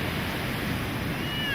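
Ocean waves breaking at a surf break where surfers ride big swells, heard as a steady, continuous broadband wash of surf with wind rumble, filling the moment without any talk.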